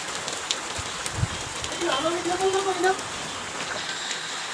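Steady monsoon rain hisses across the whole stretch, with a voice speaking briefly in the middle over the patter.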